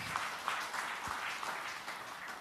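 Scattered audience applause at a church sermon on humility, a steady wash of many hands clapping at moderate, somewhat distant level, with no voices over it.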